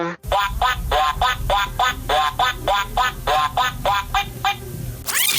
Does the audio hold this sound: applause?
no